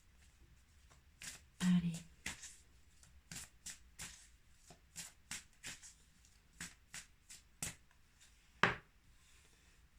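Tarot cards are shuffled and drawn close to the microphone in a quiet room, making a series of short soft riffles, slaps and flicks, with a brief spoken word in between.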